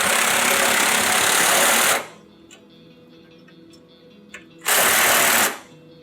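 A power tool tightening the 12 mm bolts and 1/2 inch nuts of a SnowDogg straight blade plow assembly, two loud, close, steady buzzing runs, one about two seconds and a shorter one near the end, with a quiet pause between.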